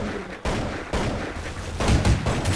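Gunfire in Counter-Strike 1.6, loud, close weapon fire in dense sustained bursts with abrupt breaks between volleys, filling the whole stretch without talk.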